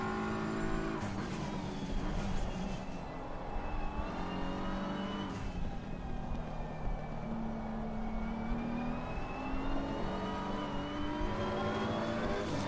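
Race cars lapping Suzuka in a racing game, multiple engines revving, shifting and sweeping in pitch, with tire scrubbing and cars passing close by, a loud, unbroken mechanical roar.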